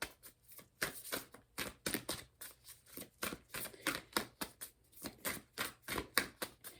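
Tarot cards shuffled and drawn by hand for a Leo reading, a quick run of crisp papery riffles and snaps in close, steady bursts with short pauses between, fairly soft and with no talking.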